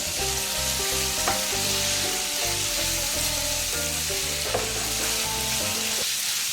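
Chicken gizzards fry in a pan with a sprinkle of turmeric, giving off a steady, dense sizzle with a faint scrape of stirring now and then, close and even throughout with no talking.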